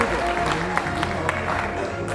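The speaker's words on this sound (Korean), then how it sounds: "환영의 박수 부탁드립니다." Audience at a book concert applauding to welcome a guest, steady moderate clapping with crowd murmur throughout, fairly distant and even.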